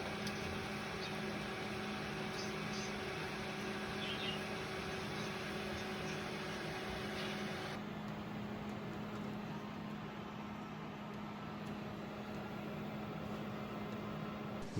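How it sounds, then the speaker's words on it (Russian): Graphics card fans spinning at full load, an RX 460 and then an RTX 3060, a faint steady whir with a hum that shifts to a slightly different tone partway through, continuous and without talk. "Сейчас на полной мощности запустим RX 460 и затем 3060 и посмотрим на разницу в шумах от этих видеокарт."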